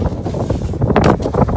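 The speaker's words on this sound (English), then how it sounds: "Super windy out, so sorry if you hear wind noises." Gusty wind buffets the microphone outdoors during a snow storm, giving a brief burst of rough, uneven rumbling that rises and falls, with no talking.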